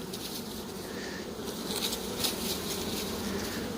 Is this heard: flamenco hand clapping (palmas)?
no